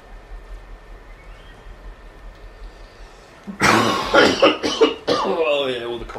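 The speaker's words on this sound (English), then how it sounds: "feel all the healthy lungs in that cough" A cough bursts out loud and close after a few seconds of quiet background hum, followed by a short run of throat-clearing sounds with no talk around it.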